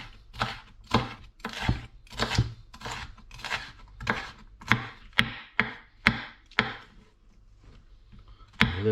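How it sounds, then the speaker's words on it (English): Button mushrooms roughly chopped with a knife on a cutting board: a dozen or so crisp, close knife strikes in an uneven, steady rhythm, then a pause and one final chop. "So you can see I'm roughly chopping it because I do want some quite big chunks of it."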